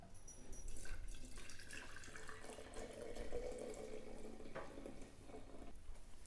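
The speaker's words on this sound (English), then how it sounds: "We're going to pour our hot liquid into here." Hot brewed tea poured from a pan into a glass jar for a kombucha kit, giving a steady close liquid splash and trickle that swells midway and tails off with a few drips.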